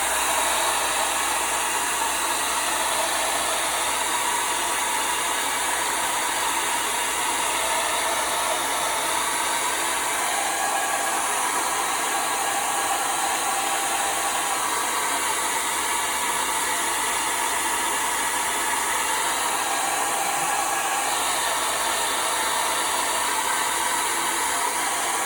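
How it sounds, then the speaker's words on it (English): A handheld blow dryer runs steadily and loudly for the whole stretch, drying acrylic paint on a clematis painting, a constant broadband whoosh with no pauses and no voices. "here's my blow dryer and here we go"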